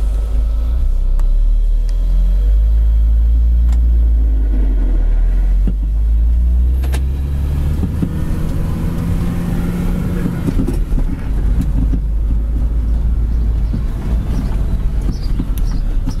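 A 2006 Mini Cooper driving on a 30-degree day, heard from inside the cabin: a steady, loud low engine rumble that swells as the car accelerates through the gears midway.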